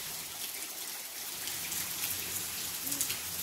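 Rain falling outside, a soft, steady hiss of drops pattering on surfaces, even and continuous throughout, quiet and fairly distant with no voices over it.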